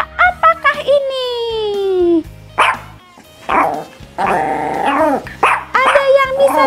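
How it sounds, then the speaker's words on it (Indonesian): A dog barks in a quick series of sharp, loud yelps and howling barks, some drawn out and falling in pitch, with short gaps and a low growl between bursts, close and prominent. "Suara anjing menggonggong."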